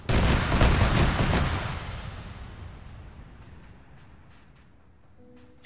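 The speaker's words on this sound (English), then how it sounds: "Why are you firing?" Rapid automatic gunfire in the Arma 3 military game, a loud dense volley of overlapping shots that thins into a long reverberating rumble and distant scattered reports.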